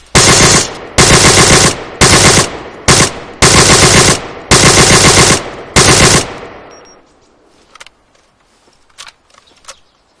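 Bursts of automatic gunfire from a new weapon in the Arma 3 IFA3WarMod game, several loud sustained volleys in quick succession with short gaps, followed by faint scattered distant shots.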